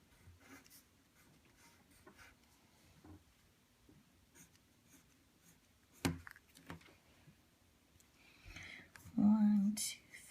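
Marker or pen drawing shapes on a board during a fractions lesson, faint scattered strokes and taps with a louder scrubbing burst near the end, under soft background noise.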